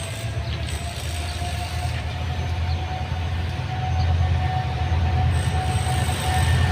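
Two trains rolling past together on a cloudy day, a continuous loud rumble of wheels on rails with faint squeals and rising intensity toward the end, no talk.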